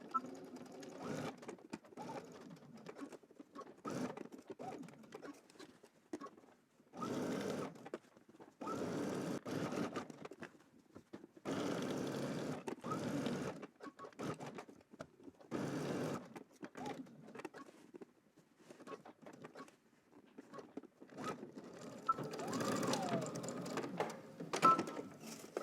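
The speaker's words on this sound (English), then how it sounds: "let's head to the machine and stitch all of this together" Sewing machine stitching polo shirt knit fabric in repeated bursts of steady whirring, each run of stitches stopping and restarting, fairly close and alone.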